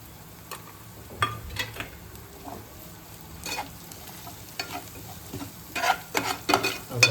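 Spices with onion fry in a pan as tempering for aloo paratha filling, a soft steady sizzle broken by several louder scraping stirs that come more often toward the end.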